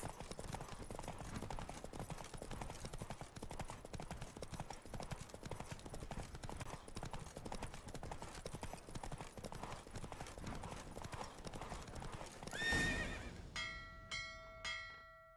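A horse gallops in a race in The Witcher 3 video game, its rapid hoofbeats drumming steadily for a long stretch before a bell rings and a horse whinnies near the end.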